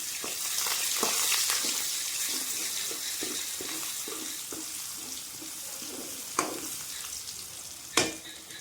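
Oil sizzles and fries steadily in a pan as crushed chilli and garlic cook for chilli garlic noodles, with soft stirring clicks and a couple of sharper utensil knocks near the end.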